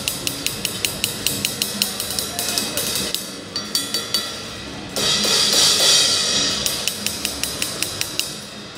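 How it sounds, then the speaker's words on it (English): A Zildjian 18-inch Uptown Ride cymbal from the City Pack is played close up with a tight, even stick pattern of bright pings, a brief pause, then a louder washy stretch before the steady ride pattern resumes. "called the City Pack, so this is now the Uptown Ride"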